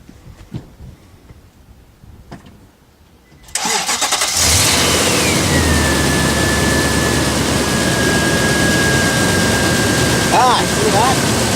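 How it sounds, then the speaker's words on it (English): A big 5-liter V8 truck engine cranks over on cordless drill battery power, catches and settles into a loud, steady close-up idle after a few seconds of quiet rustling, with a faint whine riding over the running engine. "That's a great big V8 5-liter. And I just started it with the drill battery."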